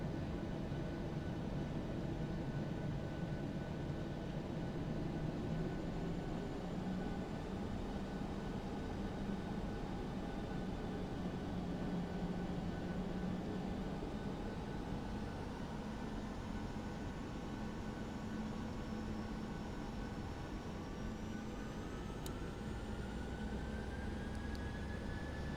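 A Ryanair airliner taking off from Gatwick in a flight simulator, with a steady jet engine roar holding constant and a faint rising whine late in the run.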